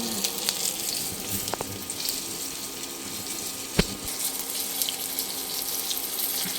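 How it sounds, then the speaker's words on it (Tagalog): Chicken pieces frying in hot oil while cooking tinola and fried chicken, a steady close hiss and crackle with a brief sharp clatter partway through, no voices. "Yan nga pala yung chicken kanina, piniprito na natin."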